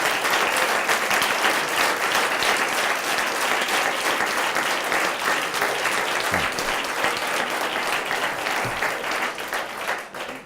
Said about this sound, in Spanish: Me preocupa el aplauso